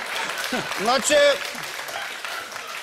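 Studio audience applause from a Bulgarian TV talk show rises briefly under someone speaking, swelling near the middle then fading back behind continued talk.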